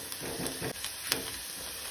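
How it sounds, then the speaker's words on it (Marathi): Chopped onion frying in a pan over a medium flame for Goan lady fish curry: a steady close sizzle and hiss, broken by a few sharp scraping stirs. "मुड्डोशाच्या हुमणाक कांदो बरो तळसून घेवपाक जाय।"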